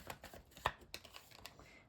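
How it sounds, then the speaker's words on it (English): Tarot cards being shuffled by hand during a reading, a soft papery riffle with a sharper snap near the middle, fairly close and quiet, with no voices. "you saw me shuffle the cards"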